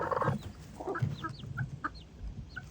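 A broody hen clucks in soft, low, repeated grunts, close by, with a few faint chirps from other birds in the background.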